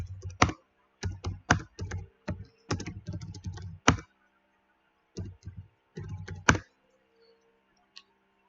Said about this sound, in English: So we need to come back and type something else again.